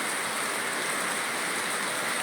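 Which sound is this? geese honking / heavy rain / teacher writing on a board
heavy rain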